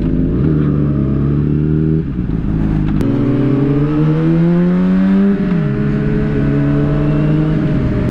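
A car engine hums loudly and continuously while cruising, its pitch rising as the car accelerates and dropping briefly at gear shifts before climbing again.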